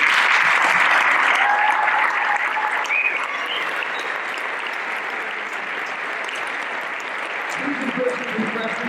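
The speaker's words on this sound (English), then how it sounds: "big round of applause to the guys receiving the award" Audience at a police awards ceremony applauds the officers receiving awards, a loud, dense wash of clapping lasting throughout, easing slightly toward the end with some murmuring voices underneath.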